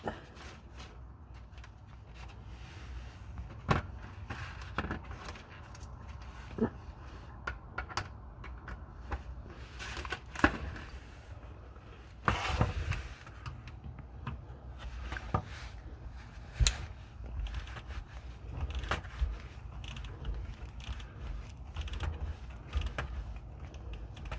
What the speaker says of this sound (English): Now after this I'm going to open the drain plug.